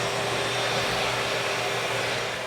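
A vacuum cleaner runs steadily with a loud, constant hum and whine as it sucks debris off a garage floor, close by and alone.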